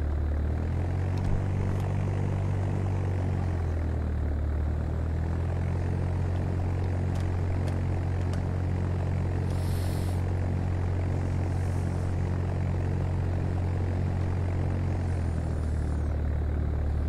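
A propeller aircraft engine in a flight simulator video game drones steadily throughout, a loud, even low rumble with a few faint higher clicks and chimes on top and no talking.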